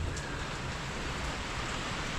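Steady, dense rain hiss over a construction site, a continuous wash of falling water with no clear individual drops or pauses, fairly loud and unbroken throughout.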